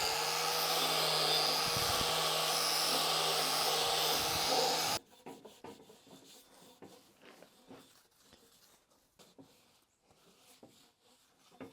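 A wire wheel grinds loudly and steadily against the metal frame legs of a zero-turn lawn mower for about five seconds, then cuts off to quieter handling noises.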